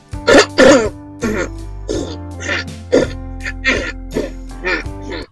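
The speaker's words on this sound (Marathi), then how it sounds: "मी खोकलो" A series of throaty coughs and throat clearings, two loud ones at first followed by several softer, spaced bursts close to the listener.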